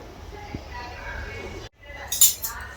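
Tablespoons clinking together, a brief cluster of bright metallic taps near the end after a stretch of quieter background, with someone talking.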